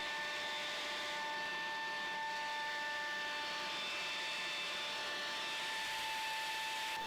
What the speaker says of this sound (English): It is that type of blower that accepts a single battery for cleanup operations.